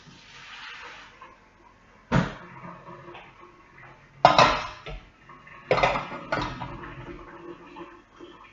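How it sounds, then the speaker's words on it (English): Cooked potatoes being drained and mashed in a pot for potato bread: a few sharp, loud metallic clanks and knocks of the pot and masher ring out between quieter stretches of faint kitchen rustling. "I'm just going to drain those and mash them."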